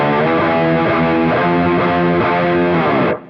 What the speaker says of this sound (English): So the chorus is built off of the power chord of this tuning,